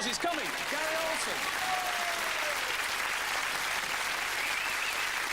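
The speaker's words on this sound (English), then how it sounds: "give him a round of applause" Studio audience applause at a Sooty children's entertainment show, a steady, even patter of many hands kept fairly low, with a few brief voices and tonal sounds rising over it near the start.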